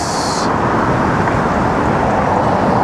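Car traffic rushes past a cyclist on a New York City street, a loud, constant roar of engines and road noise heard close up and unbroken throughout.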